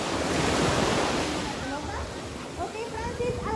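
Ocean waves break and wash up on Caracol beach, a steady broad rush of surf with some wind, loud and continuous throughout.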